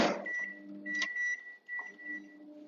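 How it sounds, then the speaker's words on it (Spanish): A microwave oven heats a bowl for a one-minute run while making chocolate cupcakes with coffee buttercream, giving a steady close hum with a higher tonal whine and faint brief clicks or beeps, with no voices. "vamos a poner 1 minuto en el microondas"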